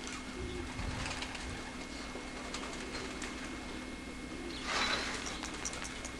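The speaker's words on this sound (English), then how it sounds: "The birds can fly through these windows" Racing pigeons coo in a loft with low, soft throaty calls near the start, then quieter ambience with a brief flutter or rustle near the end.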